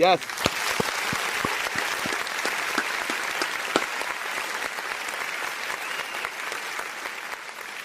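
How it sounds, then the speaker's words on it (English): Sustained applause rolls on steadily with a few sharp individual claps standing out early, while voices talk over it at times. "Where the hell is my applause?"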